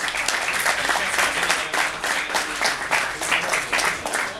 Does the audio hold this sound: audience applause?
yes